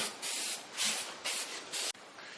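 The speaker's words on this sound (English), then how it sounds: "I'm getting ready to spray this wire wheel and make it look like it used to." Four short bursts of spray paint hissing from a nearby can onto a 21-inch Buffalo wire wheel of a 1927 Cadillac limousine, each about a third of a second, separated by brief gaps.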